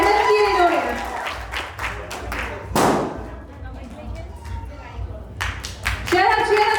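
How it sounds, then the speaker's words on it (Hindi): Applause and cheering from an audience at a company anniversary celebration, dense clapping with some louder bursts, interrupted by a few spoken words near the start and end. "जोरदार तालियां हो जाए everyone, come on."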